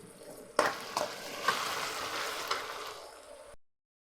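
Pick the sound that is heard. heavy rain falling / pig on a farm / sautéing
sautéing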